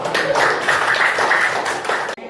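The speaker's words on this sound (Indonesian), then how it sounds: "Oke, tepuk tangan untuk kita." Students in an eighth-grade junior high classroom clap their hands together, a brief burst of fairly close clapping that stops abruptly.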